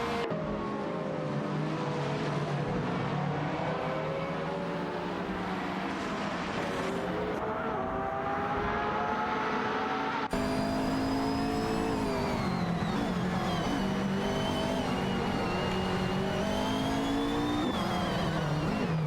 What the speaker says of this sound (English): The battle for P9 continues with both cars neck and neck down the straight.